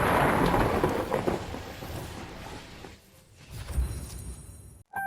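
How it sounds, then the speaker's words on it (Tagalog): Heavy rain pours down in a loud, dense wash with rolling thunder, easing briefly before a renewed rumble and a sudden cutoff near the end. "Ngayon, pagdating ng diwata, agad bumuhos ang malakas na ulan."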